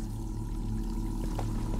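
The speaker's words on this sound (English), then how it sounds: "You didn't turn off your water, though." Tap water left running in the video game Bioshock Infinite, a steady pouring rush with a low hum beneath it, continuous and close, with a few faint clinks near the end.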